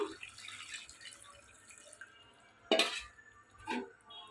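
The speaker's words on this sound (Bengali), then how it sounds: "এখানে আমার তরকারিটা কষানি হয়ে গেছে এখন আমি দিয়ে দিচ্ছি জুলটা" Water is poured into a pan of simmering curry with papaya, giving a brief splashy gush midway followed by a shorter second pour, amid faint kitchen clatter and background hum.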